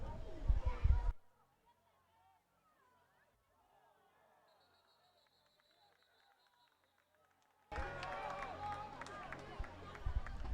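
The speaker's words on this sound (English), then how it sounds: "Cheering coming from both teams' benches now as that play transpired" Cheering and crowd noise rise from both teams' benches at a night boys lacrosse game against Holy Trinity, loud and busy at the start, then dropping out before a second burst of raised voices and shouting returns near the end.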